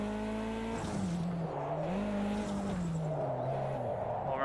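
A race car in a VR racing game on an Oculus Quest 2 revs with its engine pitch rising and falling through gear changes, under steady tire squeal and skidding.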